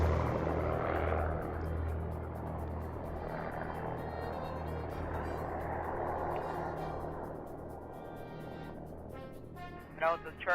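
A light airplane's propeller engine drones steadily in a flight simulator game, a continuous mid-range hum that swells and fades slightly as the view shifts, with a brief voice near the end.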